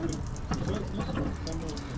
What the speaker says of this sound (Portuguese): Completou a caixa de água, ele vaza pelo suspiro.